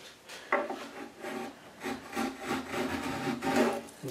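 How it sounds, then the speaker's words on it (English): Light hand-plane strokes across a drawer part on a woodworking bench: a soft, rhythmic series of rasping shaves, about half a dozen close, quiet passes with no talking. "for such light planing, that's actually working really well"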